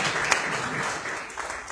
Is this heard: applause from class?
yes